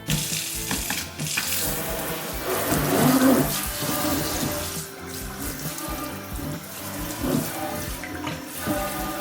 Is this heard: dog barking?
no